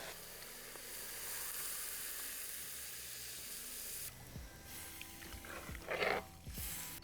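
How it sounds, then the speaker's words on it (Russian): Seared meat in a cauldron over a campfire hisses and sizzles loudly as water is poured in, a steady steam hiss that breaks off into bubbling and spattering bursts. "Мясо прихватилось, и заливаем его водой так, чтобы она полностью его покрывала."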